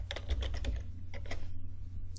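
Quick, light keystrokes on a computer keyboard as file names are entered, a steady close run of taps that pauses briefly before a final few presses.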